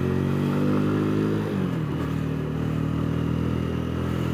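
A 2022 Jawa 300 CL motorcycle pulls away under acceleration, its steady engine note loud and close, with the pitch dropping briefly as it shifts before settling back into a continuous drone.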